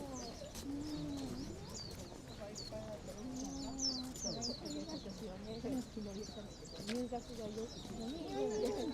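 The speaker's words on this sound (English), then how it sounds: "Do you hear the birds chirping?" Birds call and coo repeatedly at a cherry blossom spot lined with food stands in Japan, soft, warbling calls rising and falling throughout, under a low outdoor background.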